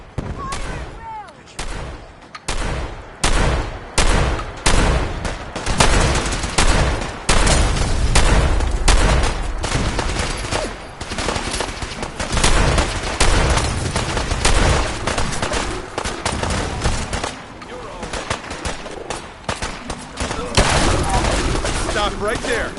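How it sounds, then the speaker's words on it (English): Dense gunfire from many weapons in the Far Harbor DLC of Fallout 4, loud rapid shots and bursts crackling almost nonstop, with shouting voices mixed in. "Fire at will!"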